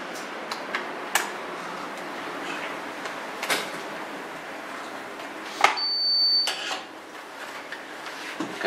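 A Paradox K37 wireless keypad gives a short high electronic beep as it powers on, with scattered clicks and handling noises on a quiet tabletop around it.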